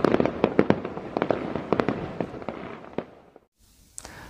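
A fireworks shell bursts high overhead during a Bastille Day display on 14 July 2021, breaking into a dense run of sharp crackles that thin out and stop, with one last faint pop after a short silence.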